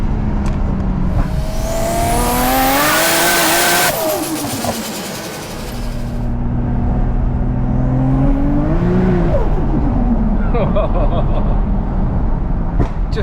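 A 700bhp Nissan R33 Skyline GTR accelerates hard, its turbo engine rising through sharp revving sweeps. The note drops briefly mid-run, then climbs again, loud and close.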